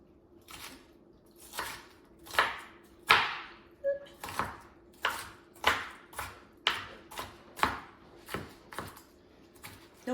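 A knife chops cabbage on a cutting board for a detox soup, about a dozen crisp, close, evenly spaced strikes with no talking.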